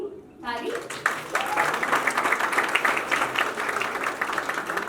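An audience at a birthday event and single launch for a singer breaks into steady applause after a brief pause, a full sustained round of clapping from a crowd with some voices mixed in.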